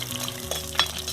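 Garlic and curry leaves sizzling in oil for a fish curry while a spoon stirs the pan: a brief close burst of frying hiss with a sharp scrape near the middle, and no voices.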